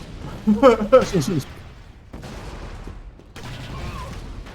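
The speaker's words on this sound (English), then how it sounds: "I hear another recon. That's an auto turret." An automated turret fires in the 2005 Star Wars Battlefront 2 game, with a loud cluster of rapid shots followed by quieter, rattling gunfire further off.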